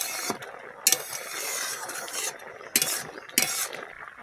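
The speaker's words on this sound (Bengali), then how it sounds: "একসাথে মিশিয়ে নিচ্ছি, দিয়ে দাও। দাঁড়িয়ে যাচ্ছে ঘিতে।" A spoon scrapes and clinks against a pan while crab curry ingredients are mixed in ghee, with several sharp metallic knocks amid a softer sizzling stir.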